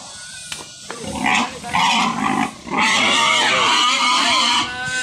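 A stubborn pig that got into a house and refuses to leave grunts and squeals loudly and close by in a continuous, agitated string of oinks, with some clatter behind it.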